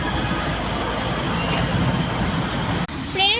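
Heavy road traffic near the Dahisar check naka produces a dense, steady rumble of engines from inside a vehicle, with a brief cut near the end and a faint voice afterward.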